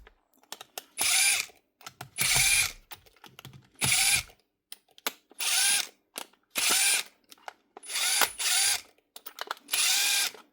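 A Makita cordless drill with a damaged gearbox whirs in eight short bursts, each about a second long, with brief quiet pauses between them, close and loud.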